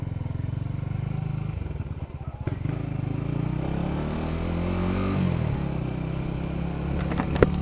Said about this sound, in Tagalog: Adventure bike.